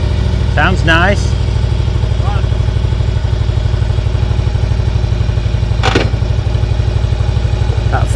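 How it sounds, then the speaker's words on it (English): A Harley-Davidson motorcycle engine thumps loudly and steadily as it pulls away in first gear, its rhythmic low rumble running throughout, with brief voices and clanks over it. "That famous Harley first gear."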